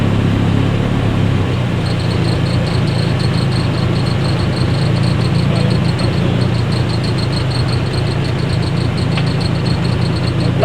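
A boat engine idles loudly and close while pulling out of a canal lock, a constant low drone with a faint regular ticking and no talk.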